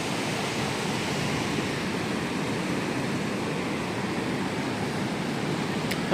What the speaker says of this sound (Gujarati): ખળખળ ખળખળ ખળખળ પાણી થઈ રહ્યા છે